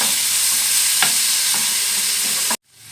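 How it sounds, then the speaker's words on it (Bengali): Tomatoes sauté loudly in a hot pan while a spoon stirs them, a dense close sizzle with a few scraping strokes, ending abruptly in silence. "ভালো করে কষিয়ে নিতে হবে যতক্ষণ না টমেটোর থেকে গলে যাচ্ছে"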